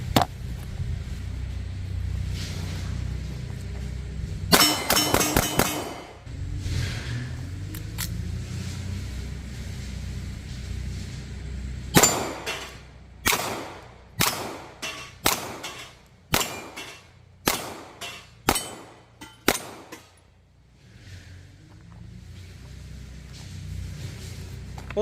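A Star BM 9mm pistol being cleared by hand, with a burst of metallic racking near the start and later a run of about ten sharp clicks and clacks from the slide and action, separated by quiet handling.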